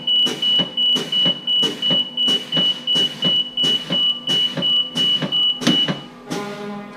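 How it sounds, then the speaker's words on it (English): Truck air brakes are pumped repeatedly, about a dozen evenly spaced hissing pulses with a steady warning beep, then the parking brake engages with a final release of air, close and loud. "Now I'm going to pump the brakes to below 50 psi and my parking brake will engage."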